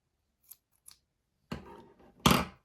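Scissors snip off yarn ends on a crocheted fingerless glove: two faint small clicks, then two close, sharp cuts in an otherwise quiet space.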